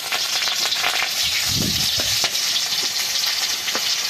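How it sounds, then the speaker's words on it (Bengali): Panch phoron, green chillies and bay leaf sizzling steadily in hot mustard oil, a dense continuous frying crackle with a few clinks and stirring sounds, close and loud with no talking. "এই তেলে আর একটু সর্ষে তেল দিয়ে দিচ্ছি দিয়ে দিচ্ছি পাঁচ ফোড়ন দিয়ে দিচ্ছি কাঁচা লঙ্কা দুটো দেড় তেজপাতা"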